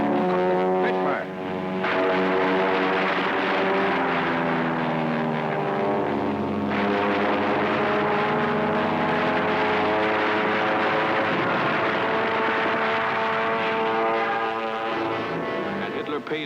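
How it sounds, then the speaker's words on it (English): A Spitfire fighter's propeller engine drones loud and steady with a deep throbbing tone that swells and shifts slightly, filling the scene without pause. "Spitfire."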